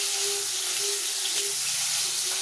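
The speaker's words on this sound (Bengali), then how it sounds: "হ্যাঁ, এখানে মাছটা বসিয়ে দিচ্ছি।" Fish frying in hot oil in a home kitchen, a loud steady hiss and crackle of sizzling that holds evenly throughout, with a faint tonal hum underneath and no voices.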